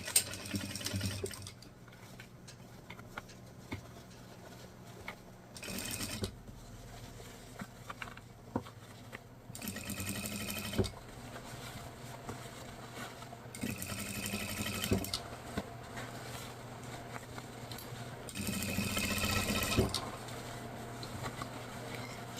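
An industrial sewing machine stitching fabric for an Easter basket, with several bursts of rapid whirring stitching separated by quieter pauses filled with small handling taps and clicks.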